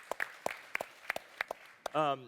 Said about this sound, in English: I think that's an applause there.